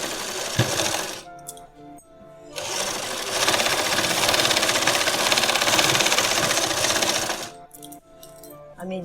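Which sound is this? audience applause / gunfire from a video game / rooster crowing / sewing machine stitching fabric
sewing machine stitching fabric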